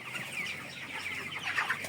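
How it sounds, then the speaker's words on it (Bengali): Broiler chickens, a flock of about a thousand 25-day-old birds, cluck and chirp softly inside a poultry shed, a faint, busy murmur of overlapping calls with no voices. "এই শেডটিতে এক হাজার ব্রয়লার মুরগি আছে"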